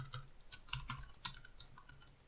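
Keys clicking in a short burst of typing on a computer keyboard, quiet and close, with soft uneven taps and a few sharper keystrokes.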